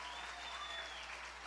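Quiet applause from a church congregation during a Pentecost Sunday homily, a steady wash of many hands heard from a distance, with a faint tonal whine running through it.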